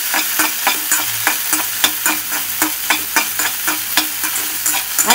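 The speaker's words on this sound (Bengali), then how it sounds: "তাহলে আলু ফুলকপি যখন একটু ভাজা ভাজা হয়ে আসবে" Potatoes and cauliflower stir-fry in a pan with very little oil, a close bright sizzle punctuated by rhythmic spatula scrapes and taps roughly twice a second.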